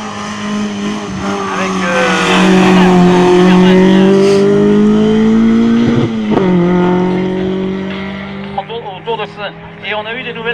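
A loud race car in a CF2000-class hill climb roars past close by, its engine note rising and then dropping as it goes away, with a commentator talking over it.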